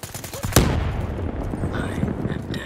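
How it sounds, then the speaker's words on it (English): Far-off gunfire in the Call of Duty Black Ops III multiplayer match, a sharp crack followed by a rumbling tail and scattered shots, with the player's voice sometimes over it. "Somebody shooting from afar."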